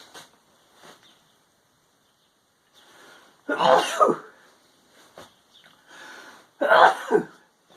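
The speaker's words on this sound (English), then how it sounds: "I knew a sneeze was coming" Two sharp, loud sneezes burst out a few seconds apart, preceded by small sniffs and breaths in an otherwise quiet room.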